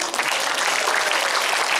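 A crowd at a temple ceremony at Pura Penataran Agung claps together in a dense, steady burst of applause, loud and continuous throughout, with no talk over it.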